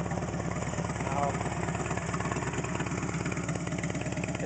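A Harley-Davidson Street Glide idles through Rinehart slip-on exhausts with the baffles removed, making a steady, loud, lumpy rumble with even pulsing throughout.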